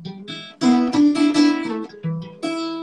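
Acoustic guitar played alone in a bluesy style, plucked notes and short chord stabs with brief pauses, close and fairly quiet.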